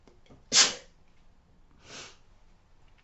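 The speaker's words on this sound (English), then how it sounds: "Oh, I'm going to sneeze." A single sharp sneeze bursts out close by, followed about a second later by a softer sniff or exhale.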